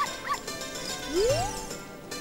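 A dog barks and yips in The Legend of Zelda: Ocarina of Time, a few short high calls followed by a rising whine, with game music tinkling underneath.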